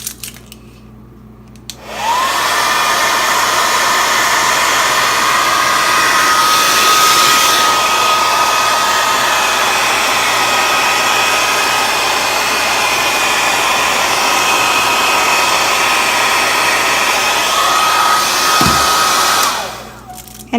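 A hair dryer heat-seals shrink wrap packaging, blowing as a loud, steady, close whir that starts abruptly, holds for about seventeen seconds and then cuts off.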